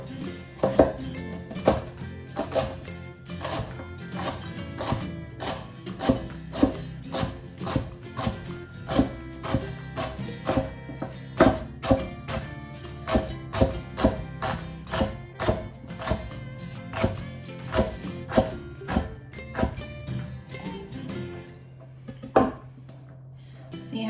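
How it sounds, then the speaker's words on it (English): A knife slices celery stalks on a cutting board in a steady run of crisp, close chops that falls briefly quiet near the end before a last cut. "slice right to left, hold the other side so it's out of the way of the knife"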